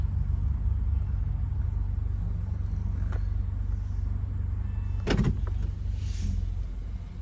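A 2017 ninth-generation Honda Accord with a muffler delete rolls off with its windows down, a steady low exhaust rumble and road drone throughout, with a brief rattle and a short burst of mechanical noise midway.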